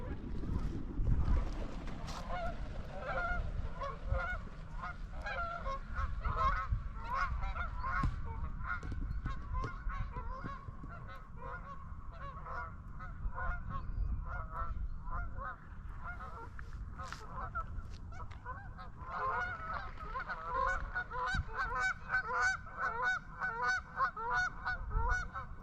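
Geese honk repeatedly at a lake near a fishing pier, with a swan and ducks nearby, the calls steady and fairly close over low wind-like rumble throughout.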